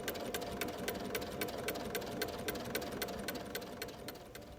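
Sewing machine fitted with a walking foot stitching a quilt, a fast, even run of rapid needle clicks over a low motor hum, close and steady throughout, with no talking.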